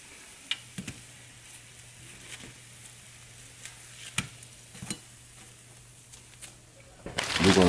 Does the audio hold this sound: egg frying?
yes